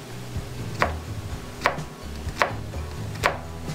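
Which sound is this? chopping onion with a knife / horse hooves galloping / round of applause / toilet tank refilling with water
chopping onion with a knife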